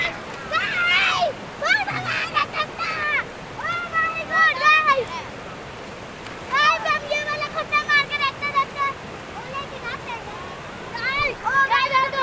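Children bathing and splashing in a cold, fast-flowing river in the Siachen area, high young voices shouting and chattering close by over steady rushing water.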